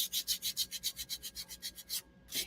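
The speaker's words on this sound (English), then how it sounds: "I want to sand it just a little bit" Light hand sanding with fine 320 grit sandpaper on a painted wooden shelf sitter, a steady series of quick rhythmic scrubbing strokes, close and fairly soft, pausing briefly before one last stroke.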